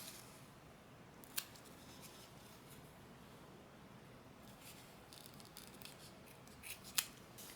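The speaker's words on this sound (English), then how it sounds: "now it's time to cut off our little foam pieces." Scissors snip through craft foam pieces for dollar store rainbow wall art, giving two distinct sharp cuts a few seconds apart, close and fairly quiet over a soft background hiss.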